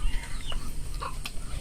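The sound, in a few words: hens clucking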